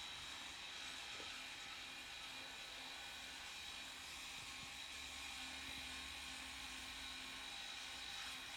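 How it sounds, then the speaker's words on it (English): A Dremel rotary tool fitted with fine diamond burrs carves and smooths a flat rock shaped like a fish, giving off a faint, steady high whine without pause. "I switch to the Dremel with fine diamond burrs"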